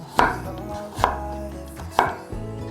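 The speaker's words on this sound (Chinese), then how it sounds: "把红萝卜切片" A knife slicing a carrot on a cutting board for a vegan dish: three crisp, evenly spaced chops about a second apart and a fourth softer one, close and clear with no talk.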